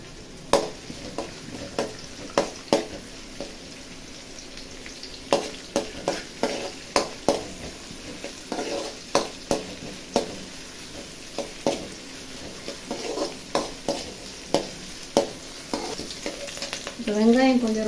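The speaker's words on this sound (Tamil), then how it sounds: "கொஞ்சம் வதங்கணும் ஆனியன்ஸு" Onions and green chillies sautéing in a pan, with a steady sizzle broken by repeated scrapes and stirring knocks of a spatula, close and clear with no talking.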